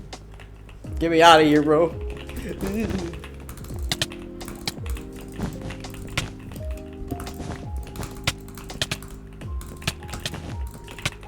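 Fast, light clicking of a mouse and keyboard during a Minecraft Block Fight match, steady irregular taps close to the microphone, with someone talking briefly near the start.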